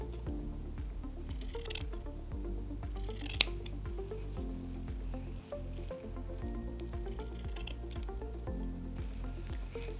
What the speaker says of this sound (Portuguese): Vou dar o acabamento aqui com a tesoura de picotar.